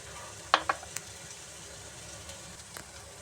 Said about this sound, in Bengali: সব কিছু একসাথে নিয়ে আবার নাড়াচাড়া করে দিব।